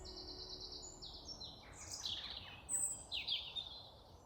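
Birds chirp and sing in high, thin bursts, some overlapping, against a quiet outdoor background with a soft low rumble.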